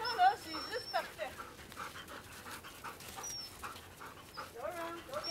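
A herding dog pants steadily close by during outdoor herding practice, with soft whimpers mixed in and someone talking over it.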